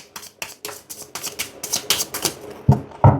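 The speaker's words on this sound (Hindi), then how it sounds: "तो चलिए सबसे पहले हम कार्ड्स को करते हैं शफल" A deck of tarot cards is shuffled close by in a quick rhythmic series of about a dozen crisp papery bursts, the last two louder and heavier, with no voices.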